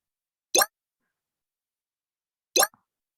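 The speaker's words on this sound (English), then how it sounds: "So there's a specific sound for check." Check alert in a C# Windows Forms chess game: two short, crisp plopping clicks about two seconds apart, alone against silence.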